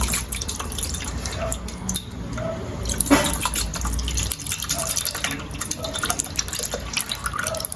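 Coconut milk poured into a pumpkin custard mixture in a home kitchen, a steady liquid trickle and splash over low room noise, with no talk.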